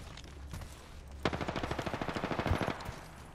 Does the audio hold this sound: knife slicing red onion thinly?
no